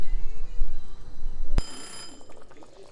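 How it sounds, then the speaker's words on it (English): A kitchen timer alarm goes off while chicken curry simmers, a sharp sudden ring midway that sounds for about half a second over low background noise and fades away. "The alarm has just gone off."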